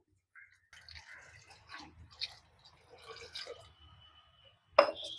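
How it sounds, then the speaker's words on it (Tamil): Water poured from a tumbler into sautéed fish curry masala for a village-style karapodi meen kuzhambu, soft trickling and splashing in intermittent bursts, ending with a sharp clink of the glass, close and fairly quiet. "ஒரு 3 டம்ளர் தண்ணி சேர்க்குறேன்."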